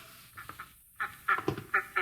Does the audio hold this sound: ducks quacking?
yes